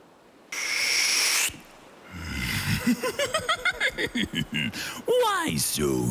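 A voice beatboxes in imitation of the Joker, mixing hooting, owl-like calls and snickering laughs with a rapid run of rhythmic percussive pulses, close and loud.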